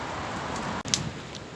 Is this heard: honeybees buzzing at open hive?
no